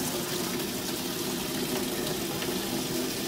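Water flows steadily through a fluid friction apparatus after a valve is partly opened, producing a continuous close rushing hiss with a faint hum beneath and no speech.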